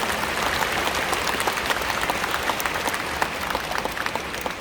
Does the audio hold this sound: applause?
yes